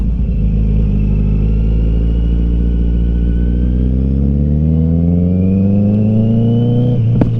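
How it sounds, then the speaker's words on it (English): A 2020 Kawasaki Z900 motorcycle engine revs up steadily, its pitch climbing over several seconds before dropping off at the end, loud and close with no talking. "if I want to get into the bike now, I would have to go down, then I can give it more rev, just like that"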